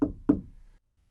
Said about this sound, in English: Mr. Cream heard a quiet knock at the front door.